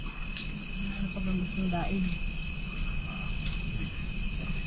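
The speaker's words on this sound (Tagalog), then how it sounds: "Puro kuliglig ang marinig ninyo sa paligid." Crickets chirping at night in the Quezon Province countryside, a dense, continuous high-pitched trill that pulses steadily throughout, with faint low background noise and a few soft distant sounds.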